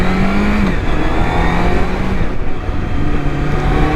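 A 2005 Triumph Daytona 650 sport motorcycle with only 756 miles, its engine revving loudly and close by, the pitch climbing and dropping through several gear changes.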